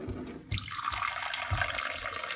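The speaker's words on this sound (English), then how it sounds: "I rinse the cup." Tap water runs steadily into a sink while a cup is rinsed under the stream, a close, continuous splashing rush with slight changes as the water hits the cup.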